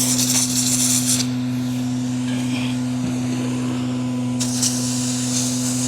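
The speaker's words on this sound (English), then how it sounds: "Pro tip, it's always nice to have a spray nozzle." A water hose with a spray nozzle sprays into a single-compartment septic tank in two loud hissing bursts, at the start and again near the end, over a steady low pump or engine hum.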